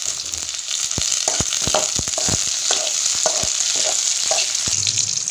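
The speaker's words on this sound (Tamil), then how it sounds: "வெங்காயம் நல்லா வதங்கட்டும். இப்போ தக்காளி சேர்த்துக்கலாம்." Onions and tomatoes sautéing in a pan for a mushroom dish, a steady close sizzle broken by repeated sharp clicks and scrapes of a spoon stirring against the pan.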